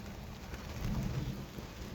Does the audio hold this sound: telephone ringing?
no